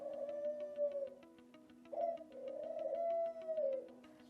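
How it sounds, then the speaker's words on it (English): A pet bird gives repeated cooing, whistling calls indoors, two long sustained phrases with a short break between them, fairly faint and close, with no talk. "There's so many cuts because my bird is just going crazy."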